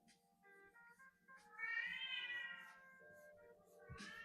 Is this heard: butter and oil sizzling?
no